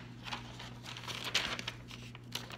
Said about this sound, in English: you want to grab a piece of paper